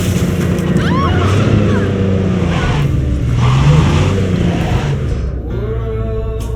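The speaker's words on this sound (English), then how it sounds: "Wait for me here and keep the engine running." A car engine runs steadily in Cyberpunk 2077, a loud continuous rumble with slight shifts in pitch, heard close under a game soundtrack with faint voices mixed in.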